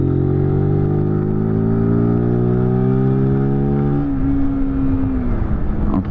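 A 50 cc scooter in eco mode accelerating steadily, its close engine drone holding a rising harmonic whine for about four seconds before settling into a rougher, lower rumble.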